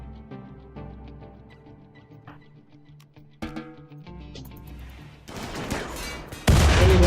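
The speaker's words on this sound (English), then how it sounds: "we're getting a couple of shots off" RimWorld gunfire crackles as several game shots ring out, sharp reports scattered among other game sounds, then a dense noisy rattle of rapid fire swells loud toward the end.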